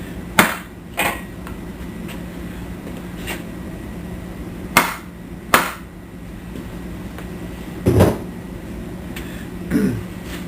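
Several hard blows from a stand-in hammer on a crankshaft during an engine rebuild, used in place of a dead blow hammer while checking end play on a 460: sharp isolated impacts spaced a second or more apart, close and fairly loud.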